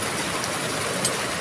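Rain falling outdoors, a dense, steady hiss of drops that stays even and fairly loud across the short stretch, with no voices.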